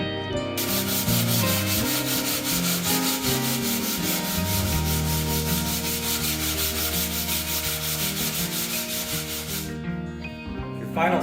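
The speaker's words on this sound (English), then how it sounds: "I want to hand sand it now. Using 100 grit" Steady, continuous rasp of 100 grit sandpaper worked by hand over a fiberglass-bound kayak hull, loud and close with an even scrubbing rhythm and no talking.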